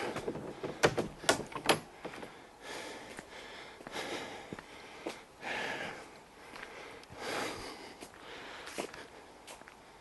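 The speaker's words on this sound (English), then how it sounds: "And close the door." A door is pushed shut nearby with a few soft knocks and clicks, followed by quiet rustling and breathing in a hushed room.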